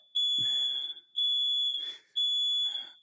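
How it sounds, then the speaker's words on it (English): A smoke alarm sounds from downstairs in a home where cooking has turned smoky, giving three loud, shrill electronic beeps, each about a second long, separated by short gaps. "Sounds like there's an alarm going off downstairs."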